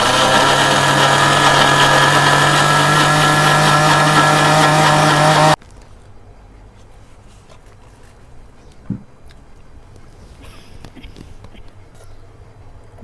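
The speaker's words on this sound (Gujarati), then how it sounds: "આપણે મિક્સર ચાલુ કરી દઈશું." A mixer grinder running on mint and coriander chutney gives a loud, steady whir for about five seconds, then cuts off abruptly into a quiet room with one soft knock.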